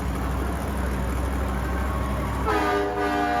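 Train-style horn on the Crazy Train monster truck at a fairground show in Hamburg, New York sounds over a steady engine rumble, a loud harmonic blast entering near the end and sustaining.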